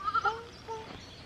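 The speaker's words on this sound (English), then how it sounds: "Come on, baby goats." Baby goats bleat in a few short, faint, wavering calls at close range, three quick cries followed by a softer one.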